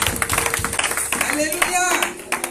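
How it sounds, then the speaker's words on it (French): A church congregation at a Sunday worship service applauds, rapid dense clapping mixed with cheering and voices, close and lively for a few seconds. "Prenons nos places et acclamons encore."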